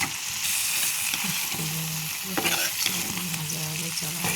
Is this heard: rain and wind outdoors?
no